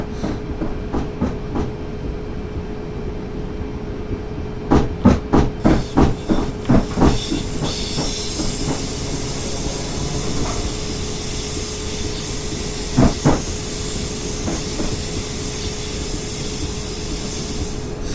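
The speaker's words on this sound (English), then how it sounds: "Class 456 departing. A lovely 2-car train." A two-car Class 456 electric train departing in the video game Train Simulator 2018, with rhythmic clunks of wheels over rail joints, a steady hum and hiss, and a rising high whine as it pulls away.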